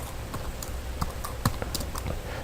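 Someone types on a computer keyboard, a steady run of soft, close key taps with a few firmer strikes, set against a faint background hum and with no talk.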